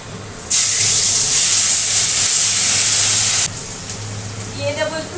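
Ginger dropped into hot oil as a tempering bursts into a loud, steady sizzle that holds for about three seconds, then drops back to a softer crackle.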